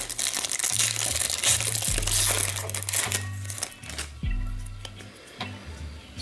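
Foil wrapper of a 2009-10 Fleer Ultra hockey card pack crinkling and crumpling up close as it is torn open, a continuous busy rustle that gradually thins toward the end, with no talking.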